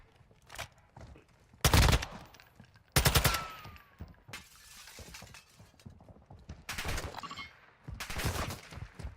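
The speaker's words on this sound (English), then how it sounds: "You are taking effective fire." Gunfire in Call of Duty DMZ arrives as several sharp bursts of close shots spaced a few seconds apart, over a busy background of footsteps and game noise.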